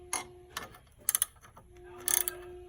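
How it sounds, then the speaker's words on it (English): Wrench tightening the nut on a car battery terminal of a 2017–2022 Nissan Rogue Sport, a few quick ratcheting clicks in short bursts with pauses between, close and fairly quiet, under a faint hum. "on this one, to tighten it, you will have to use a wrench."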